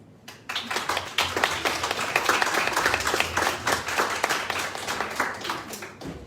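An audience claps after a food-themed startup pitch at a coworking networking event, a dense round of applause that swells quickly, holds steady and fades out near the end.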